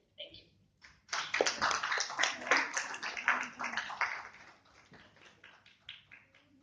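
Audience applause after an academic talk on keeping the Malacca Portuguese language alive, a dense burst of clapping from a hall that swells after a few stray claps, then thins and tapers over several seconds.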